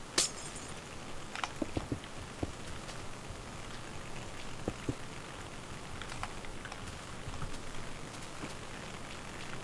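Glass blocks shattering in a Minecraft-style survival multiplayer game, several brittle crackly breaks in quick succession early on, then scattered lighter clinks over a steady hissing background.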